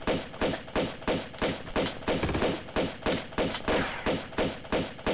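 Rapid pistol gunfire from the remastered Tomb Raider 2 video game, a steady run of about twenty sharp, punchy shots at an even rhythm, loud and close with no talking over it.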